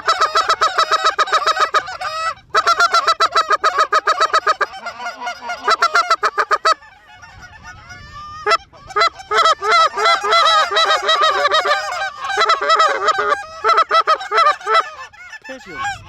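Dense, loud goose honking fills most of the stretch, many birds calling at once overhead during a goose hunt, with a brief lull in the middle before the honking swells again.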